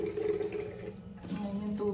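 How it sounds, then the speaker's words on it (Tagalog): Water is poured into a container to make a homemade vinegar pest spray against small cockroaches and ants, a continuous close liquid splashing and trickling that shifts in pitch as the vessel fills. "lagyan muna natin ng konting tubig"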